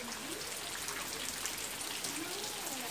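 Steady rain falls outside, a dense hiss of drops pattering on surfaces, constant and fairly close with no talk over it.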